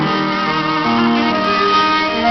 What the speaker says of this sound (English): I believe it's a quartet with piano.